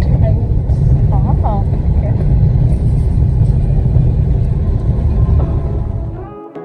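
A manual-transmission car drives along with a steady, loud low engine rumble and road noise that fades out toward the end, while people talk over it inside the cabin.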